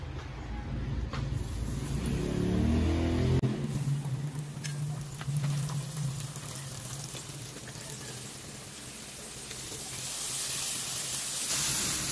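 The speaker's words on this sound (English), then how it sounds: "We're gonna fry the chicken wings." Steady sizzling of chicken wings frying in hot oil, a continuous crackling hiss that stays close and fairly loud throughout.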